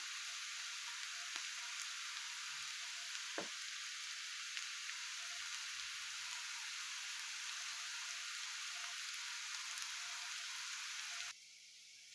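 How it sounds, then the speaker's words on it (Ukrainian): Steady crackling sizzle of vegetables frying in a pan for borscht, close and continuous, with a few soft clicks before it suddenly drops away near the end. "Зажарка смажиться"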